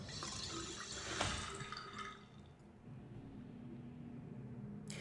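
Water trickles and splashes from a drinking fountain in the video game Riven, a continuous close running flow with a brief louder splash, then a quieter steady gurgle, with no talk over it.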